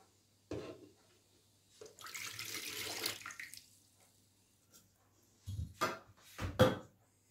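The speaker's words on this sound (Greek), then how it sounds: "Πρώτα, βάζουμε το νερό μας." Water poured into a bowl as the base for lagana, the Greek Clean Monday flatbread dough, arriving in a few short splashy bursts with quiet gaps between them and no talking.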